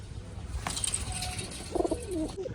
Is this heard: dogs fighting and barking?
no